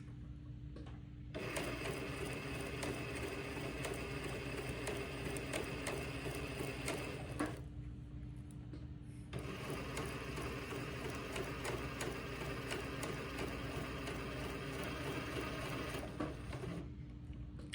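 Twin needles on a sewing machine stitch pin tucks in two long, steady runs of rapid mechanical whirring and ticking, separated by a short pause, close and moderately loud without talk.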